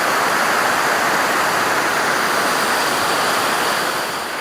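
A mountain stream fed by melting snow rushes loudly and steadily at close range, a dense broadband roar of water with no voices over it.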